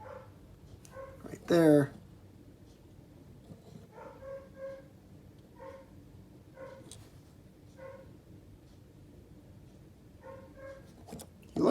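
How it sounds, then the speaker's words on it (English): A dog barks several times at a distance, spaced and moderately faint, under someone talking close to the microphone, with one louder sharp sound early on. "sorry, the dog's barking"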